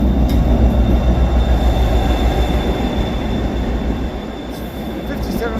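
Diesel locomotive 57302 arriving at Carlisle station, a continuous deep engine rumble with low steady drone and faint high squeal, loud and close throughout, easing slightly toward the end.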